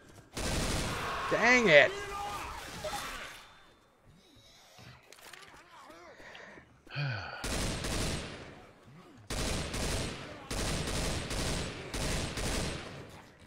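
Assault rifle gunfire in a video game, with dense bursts of rapid automatic shots in several long volleys, loud and close, separated by quieter gaps, and a player's voice talking between bursts.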